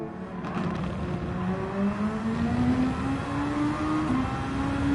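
A Super Formula SF2023 race car at Suzuka holds a steady, rising engine whine under throttle, pitch climbing smoothly through the corner, heard close and continuous without voices.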